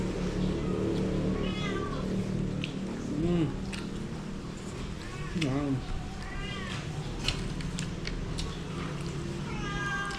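Cats meow repeatedly during a seafood meal, several short rising calls scattered across the clip over steady background noise and chewing, with people talking throughout.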